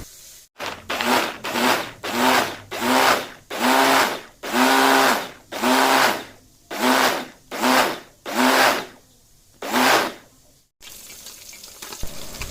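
A kitchen blender grinds sambal spice paste for sardine fish in loud, repeated pulses of about a second each, roughly ten bursts separated by short pauses, with no talking.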